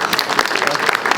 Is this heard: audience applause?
yes